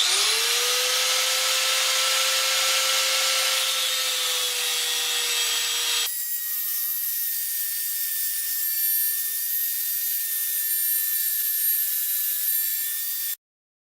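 A power tool whines loudly and continuously while cutting grade 10.9 steel wheel-stud bolts for a Hayabusa sand rail, the pitch holding high then shifting to a thinner, steady tone before cutting off abruptly.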